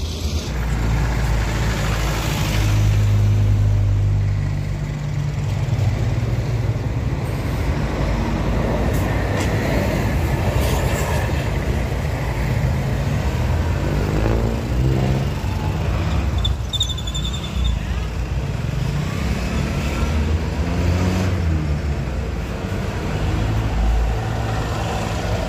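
Rush-hour road traffic heard from inside or beside a vehicle: a constant low rumble of engines and tires with passing vehicles, steady and fairly loud throughout, no voices.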